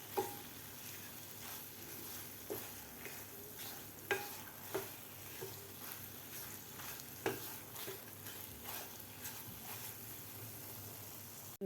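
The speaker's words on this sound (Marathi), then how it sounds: "आता आपल्याला हे सारण दोन ते तीन मिनिट परतून घ्यायचं आहे थोडंसं असं ड्राय होईपर्यंत" Coconut-jaggery modak filling being sautéed in a pan: a soft continuous sizzle broken by regular scraping strokes of a spatula, close by, with no voice over it.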